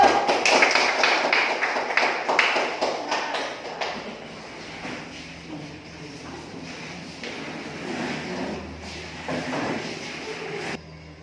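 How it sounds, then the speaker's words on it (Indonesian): A classroom of students claps for a presenting group, a dense burst of close hand claps for about four seconds that quickly thins out into a few scattered claps and quiet room noise. "Ya, tepuk tangan untuk kelompok D."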